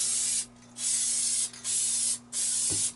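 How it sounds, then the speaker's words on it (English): Three bursts of aerosol lube spraying onto ammunition cartridge cases hiss, each about half a second long with short pauses between, close by, followed by a faint clink. "then you just spray the cases down."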